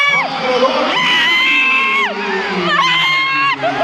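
A crowd at a college basketball game between NU and Adamson in the UAAP shrieks and cheers loudly and continuously, with high-pitched screams rising and falling close by.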